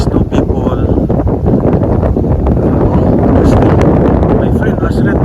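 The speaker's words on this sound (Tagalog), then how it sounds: "It's quite windy" Strong wind buffets the microphone at the seaside in Yas Bay during a fishing outing, a dense continuous roar with faint gusty rustling throughout.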